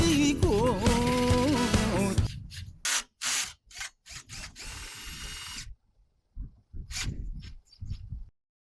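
Cordless drill for camping and folding-trailer use running in short bursts, starting with a steady whine and then cutting on and off in several brief pulses with gaps of silence between them.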